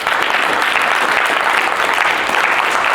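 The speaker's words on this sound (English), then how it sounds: "Give her a huge round of applause, please." An audience at a motivational speaking event applauding, dense steady clapping from a large crowd filling the space at full volume throughout.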